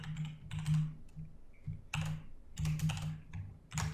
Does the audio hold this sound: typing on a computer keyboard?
yes